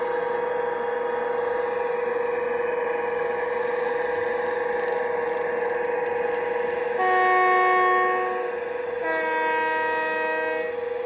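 Accurascale Class 92 model electric locomotive running on a sound decoder, sustaining a steady whining hum with tonal layers that shift and step in pitch as it powers along, loud and close.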